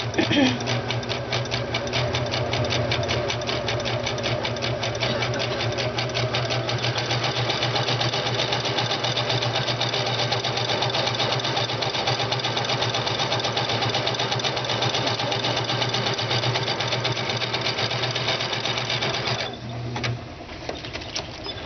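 A sewing machine runs a continuous wide zigzag stitch, joining two pieces of quilt batting butted together under an edge joining foot, with a steady rapid mechanical chatter that is loud and close for about twenty seconds before stopping.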